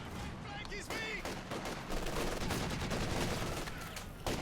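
LMG fire in the Company of Heroes 2 battle, rapid bursts of machine-gun shots mixed with other gunfire and explosions, with a commentator talking over it.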